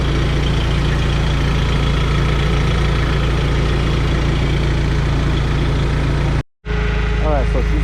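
A Crown C5 engine idles steadily while warming up to temperature with the radiator cap off, giving a loud, continuous low rumble that cuts out briefly near the end.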